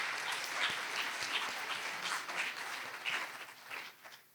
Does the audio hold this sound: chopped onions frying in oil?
no